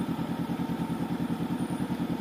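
A 2019 Honda CB500X fitted with a Mivv exhaust gives a steady, throbbing engine note with an even pulsing rhythm, loud and close, with no talk over it.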